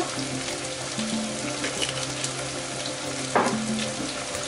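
Tofu and green beans fry in a pot, giving a steady, close hiss of sizzling fat throughout, with a brief scraping stir just past the three-second mark.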